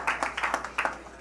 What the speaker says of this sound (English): A round of applause, please, on the announcement of this new partnership.